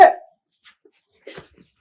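A dog gives a single sharp, close bark in a Haryanvi family drama, followed by near silence with a few faint, soft sounds.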